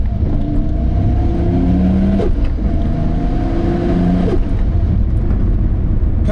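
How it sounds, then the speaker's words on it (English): Boosted RB26 engine in a 700 hp Nissan R32 GT-R with a GTW3884 turbo holds a loud, steady drone, rising and falling through two revs up toward 4000 rpm, heard up close throughout. "All right, so now we're only going to rev to 4 grand."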